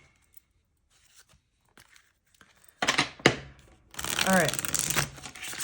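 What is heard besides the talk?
shuffling tarot cards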